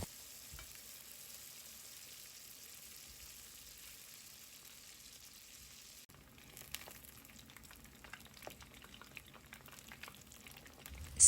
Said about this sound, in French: J'ajoute les nems dans l'huile. Pour la première cuisson, je fais fuir les nems pendant 2 minutes.